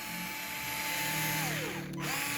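A two-speed cordless drill driver running at its slow first speed, a steady close mechanical whine and motor hum that drops in pitch briefly near the end before picking up again, with no voices.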